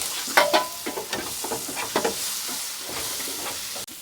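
A spoon scrapes and stirs through a sizzling pan of masala powder, turmeric and a vegetable mixture being cooked for a soya biryani, with uneven close scraping strokes over a steady frying hiss.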